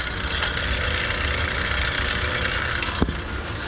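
Bell & Gossett 1/4 HP circulator pump with a broken impeller running in a heating system, a steady loud mechanical hum and rattle throughout, one sharp knock near the end.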